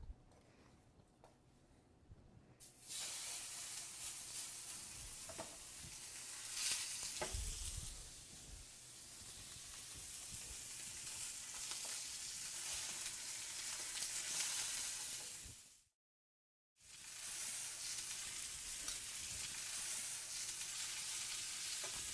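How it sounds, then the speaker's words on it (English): Beef roast searing in hot refined oil in a pan, turned now and then with tongs: a loud, steady close-up sizzle and crackle, with a few heavier bursts and a brief silent gap near the end before the frying resumes. "So I'm going to sear the roast all over, turning it occasionally with tongs to ensure even browning."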